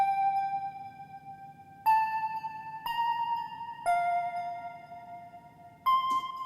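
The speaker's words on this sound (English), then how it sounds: "the last layer here is a bell lead" A bell lead synth patch from UVI Cameo CX in Vintage Vault 4 plays a slow melody of five sustained, bright ringing notes, each starting with a sharp attack and holding steadily, over a soft low pad underneath.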